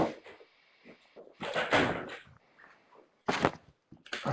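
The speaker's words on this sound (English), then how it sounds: "I'm going to close the door" A door is closed indoors in several irregular bursts of handling and rubbing noise, with a short, sharper knock near the end.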